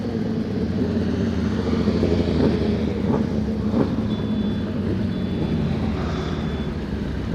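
A group of motorcycles pulls up, engines idling and rumbling with a few short throttle blips over steady traffic-like noise.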